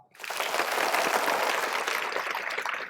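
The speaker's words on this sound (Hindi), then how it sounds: "तो इनके नाम पे ताली बजाओ थोड़ा" Students in a college motivation session clap together on cue, the applause starting abruptly, swelling quickly and holding steady for a few seconds before easing slightly.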